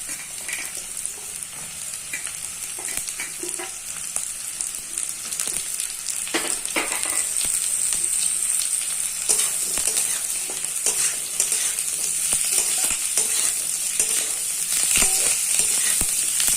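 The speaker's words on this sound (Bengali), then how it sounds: "আলুতে পেঁয়াজেতে একটু ভাজা ভাজা হবে।" Potatoes and onions frying in a pan give a continuous crackling sizzle, with clinks and scrapes of stirring, growing louder and denser about halfway through.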